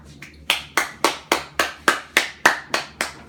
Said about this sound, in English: Please give a big round of applause for our next special guest, Rosa Parks.